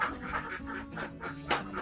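Laying ducks on a duck farm quack in a busy, overlapping chorus of short nasal calls, close and fairly loud, with a few sharper cries standing out near the end.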